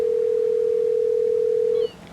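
A steady telephone dial tone hums alone for nearly two seconds while calling a convenience store, then cuts off abruptly into quiet line noise.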